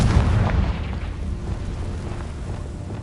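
Magical Confringo fire-blast spell from the Hogwarts Legacy game, a deep booming burst at the start that rolls into a sustained low rumble, fairly loud and heard alone.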